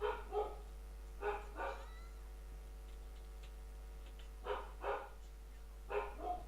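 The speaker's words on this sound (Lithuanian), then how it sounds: "čia biškį mano šuo loja" A pet dog barking indoors, several sharp barks in short pairs spread across the clip, fairly faint, with a steady low hum underneath.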